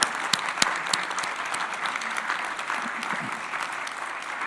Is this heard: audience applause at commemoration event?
yes